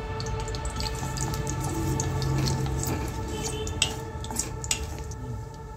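Cumin seeds and dried red chillies crackle and sizzle in a pan of hot white cooking oil as a steady, close hiss with a few louder pops toward the end.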